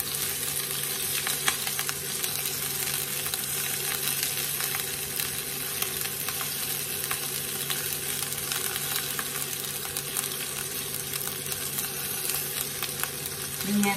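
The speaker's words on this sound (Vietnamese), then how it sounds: "Cái này cho vào rim nên mình chỉ rán qua đây các bạn nhé" Fish pieces pan-fried briefly in very little oil before being braised in tomato sauce with dill give a steady, close, spattering sizzle that runs unbroken throughout with no talking.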